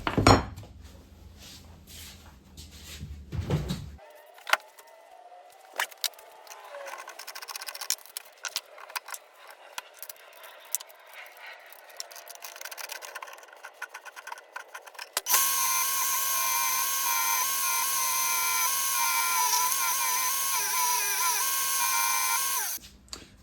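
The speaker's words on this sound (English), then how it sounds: "The scale is a little bit more difficult to get off, so I'm going to switch to a wire wheel" A wire wheel spins up and grinds scale off a forged froe blade, first as scattered faint clicks and ticks, then as a loud, steady high whine for the last several seconds. There is no talking.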